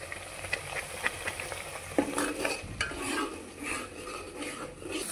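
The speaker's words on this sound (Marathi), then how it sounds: "आता बघा आपण बारीक केलेला मसाला टाकलाय कांदा टोमॅटो आलं लसूण खोबरं तर आता चांगला भाजून घ्यायचा मसाला" Ground onion, tomato, ginger, garlic and coconut masala fries in a pan for a chicken curry, with a steady close sizzle under repeated scraping stirs of a spoon against the metal.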